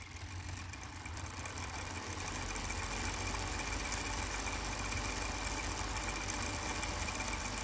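A bipolar Bedini motor runs up to speed with a steady, faint mechanical hum and fine rattling buzz that holds constant throughout, with no talking.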